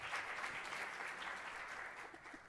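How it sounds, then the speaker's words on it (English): Steady applause from an audience at a women's business empowerment panel, greeting the women panelists, even and sustained from start to finish with no voices. "a big round of applause for them first"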